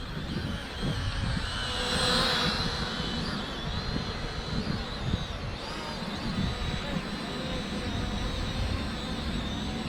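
Small E68 toy quadcopter drone at full forward speed outdoors, a continuous buzzing propeller whine that swells briefly then holds steady, with wind-like rumble underneath.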